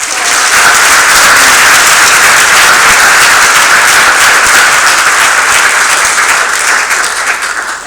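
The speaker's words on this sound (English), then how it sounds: "can we also give Robin a huge round of applause?" An audience gives a loud, sustained round of applause for Robin Gorna, dense clapping holding steady for about eight seconds before easing slightly at the end.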